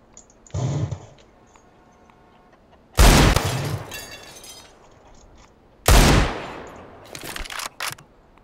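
CS:GO gunfire comes in three loud, close bursts a few seconds apart, each a sharp crack with a short rattling tail, plus a few softer pops at the end.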